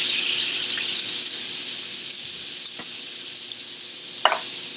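A pan is scraped while a tablespoon of garlic cooks alongside pork chops. The steady, hissing sizzle carries soft scraping strokes and ends with one sharper, louder scrape near the end.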